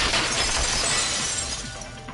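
A vase shatters in the game Danganronpa 2, a single loud burst of breaking glassy fragments that rings briefly and fades out over about two seconds.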